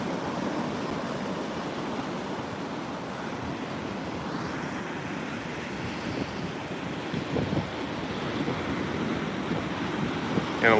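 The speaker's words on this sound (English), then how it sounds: "You can see some of those larger waves in the swell, not too far off from the tidal line." Ocean waves and surf break along a beach during a coastal flood from Hurricane Erin, a continuous distant roar mixed with gusty wind noise on the microphone, with no speech over it.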